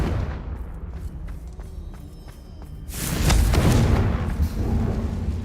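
A Confringo blasting spell explodes in Hogwarts Legacy, a loud broadband blast that swells around the three-second mark and then rumbles and crackles for several seconds after a quieter stretch.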